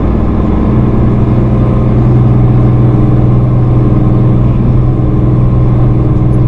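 A truck engine surges under exhaust braking on a long downhill grade, a steady loud low drone of engine and road noise running the whole time without pauses.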